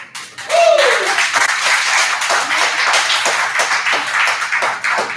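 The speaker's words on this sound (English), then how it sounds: "Please give a huge round of applause to Jonathan" Audience applause for a poet at a poetry slam, a sudden burst of dense clapping that holds loud and steady for several seconds, with a brief vocal whoop near the start.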